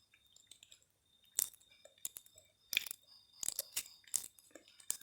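Someone bites and chews a crunchy banana chocolate bolen pastry, with several sharp crisp crunches in irregular bursts, close and quiet against a silent background.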